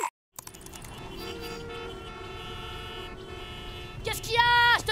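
A car horn blaring in a cartoon street scene, a sustained honk held for several seconds with a sharper, rising pitch-bending burst near the end, amid traffic noise and voices.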